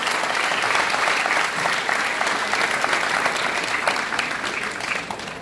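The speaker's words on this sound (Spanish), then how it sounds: "fuertes los aplausos para DJ" Loud, sustained crowd applause for a DJ at a Christmas basket giveaway event in Tierra Blanca, dense clapping holding evenly throughout with a slight dip partway.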